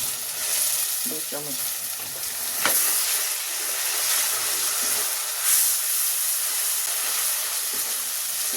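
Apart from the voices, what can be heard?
ginger garlic paste sizzling in hot oil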